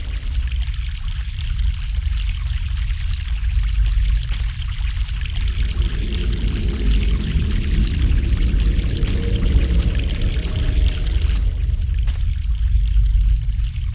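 Fresh mountain water in The Longest Journey pours and streams steadily, a loud, continuous rushing flow with a deep churning undertone that holds throughout.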